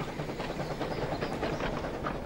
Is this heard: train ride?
yes